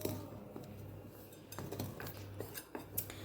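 Ingredients for an immunity-boosting breakfast batter, with salt and fresh green coriander, being mixed in a bowl: soft, irregular scraping and clinking of a utensil against the bowl, fairly quiet, with no talking.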